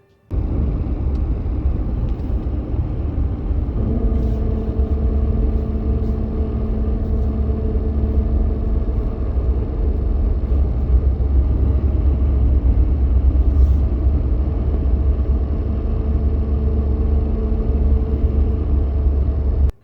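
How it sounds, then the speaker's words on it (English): A high-mileage car driving at speed, a steady loud road rumble from inside the cabin with a faint continuous whirring tone running under it. "it makes a noise, a bit of a whirring noise after you get up above about 15, 20 miles an hour"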